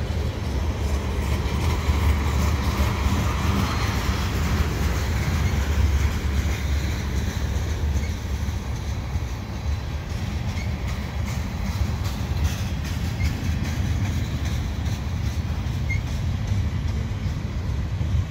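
A CP freight train with a DPU locomotive passing eastbound at Marshall Avenue, with a continuous loud rumble and rolling wagon noise filling the whole stretch, steady and close, with no talking.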